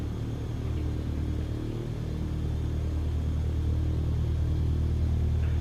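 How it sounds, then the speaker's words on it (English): A modified Cessna 152 light aircraft engine idles, giving a steady low droning rumble with no change in pitch, close and continuous, and no speech. "the 152's been modified, so it now idles at a reasonable speed"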